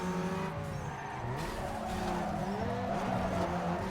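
Tires squeal and skid while a car spins out in Need for Speed Underground 2, a steady wavering screech over continuous engine drone with no gaps.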